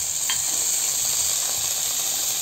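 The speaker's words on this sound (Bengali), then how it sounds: "তেলটা অল্প গরম হয়েছে, আমি একটু হলুদ দিয়ে দিলাম" Turmeric drops into lightly heated mustard oil for a vegetarian kohlrabi curry, giving a steady, close sizzling hiss that carries on without a break.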